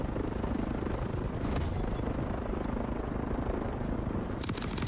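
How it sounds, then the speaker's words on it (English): A helicopter in the Call of Duty Warzone video game gives a steady, dense rotor rumble and whine throughout, with a faint crackle near the end and no talk. "The first 2 challenges I focused on were to kill an enemy with a helicopter"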